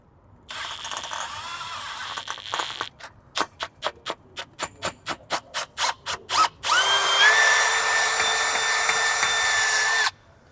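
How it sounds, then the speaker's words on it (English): A power drill bores out a fuel fitting on a Mk5 Volkswagen GTI, starting as a sustained whine, then a run of short stop-start bursts, then a long steady grinding pull, loud and close with no talking. "I'm just drilling fitting out"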